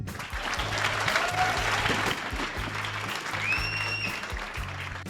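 An audience claps at a police constable success and honour ceremony, a steady dense applause filling the hall for several seconds with a faint squeal of feedback over it.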